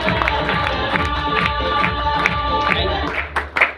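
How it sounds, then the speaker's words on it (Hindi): A seminar audience claps and cheers loudly for first-time attendees, a dense, lively roar of many hands and voices that holds steady for several seconds before breaking into scattered claps. "मैं चाहूंगा कि हमारे पुराने फाइटर्स एक बार इनके लिए जोरदार तालियां दोस्तों"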